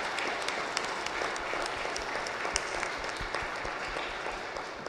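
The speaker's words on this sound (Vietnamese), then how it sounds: "xin cộng đoàn chúc mừng cho hội Thánh Linh một tràng pháo tay." Congregation applauding inside a church during a Pentecost Sunday service, a continuous even wash of clapping from many hands with a few sharper claps standing out.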